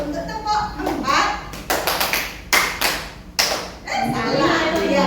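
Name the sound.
children clapping hands in a clapping game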